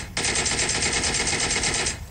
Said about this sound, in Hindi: दो चार गोलियां इसके सिर में लगती हैं